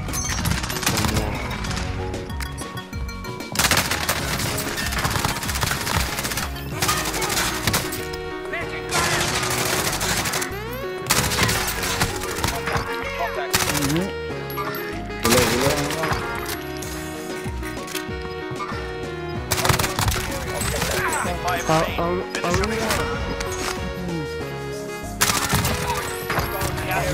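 Dense volleys of gunfire crack and rattle loudly and almost nonstop, bursts stacked on one another with voices shouting in the mix.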